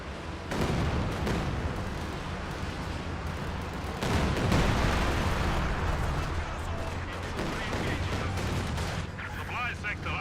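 Rocket barrage artillery fire in Company of Heroes 2 crashes in as a dense, loud rumble of overlapping blasts and booms that swells partway through, with a voice talking beneath the battle noise.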